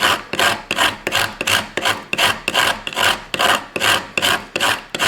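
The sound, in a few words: wood grated on Smith's Tinder Maker to make tinder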